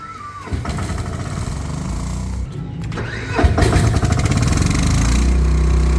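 A PK12000 generator starts by remote control. A brief cranking whir comes first, then a short pause and a second crank that catches. The engine settles into a loud, steady running drone.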